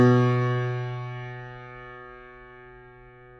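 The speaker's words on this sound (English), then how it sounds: "When you press some key on the piano," A single piano note is struck and left to ring, its bright attack decaying slowly into a sustained tone that fades over a few seconds, heard alone with no voices.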